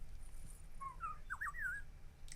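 Caged bird in an animated samurai series, a short run of clear whistled chirps and trills rising and falling for about a second, alone over a faint low hum.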